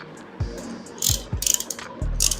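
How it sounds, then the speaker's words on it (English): Metal parts click and ratchet in a few short, uneven bursts as a screw and nut are turned by hand on a motorcycle brake master cylinder, close and fairly loud without any voices. "Take the nut and tighten the screw from the bottom itself."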